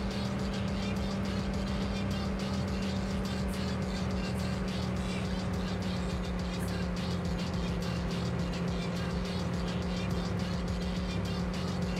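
An AC Cobra 427 engine in the racing game TORCS, a steady, droning in-game engine note with a sustained low hum held at constant pitch for the whole stretch, an odd knocking quality, and no talk over it.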